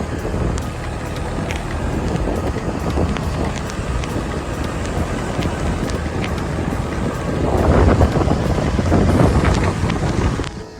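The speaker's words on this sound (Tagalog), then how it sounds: "Tinabayan pa ng malakas na hangin lalo na pag nakamotor" Strong wind roars and buffets the microphone in a constant rush while riding a motorcycle, swelling louder near the end, with a low engine-like rumble underneath.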